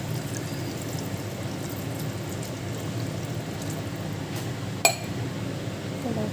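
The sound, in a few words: pouring water into a cooking pot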